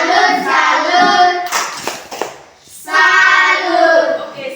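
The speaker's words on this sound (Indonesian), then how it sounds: "Tepuk salam dulu untuk Lolin" A classroom of students doing a rhythmic group clap greeting, a short patterned burst of claps between stretches of sung or chanted voices.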